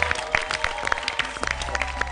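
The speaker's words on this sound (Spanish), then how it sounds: "Otro aplauso, por favor" Studio audience applause on an Argentine television program, a steady patter of clapping hands with no voices over it.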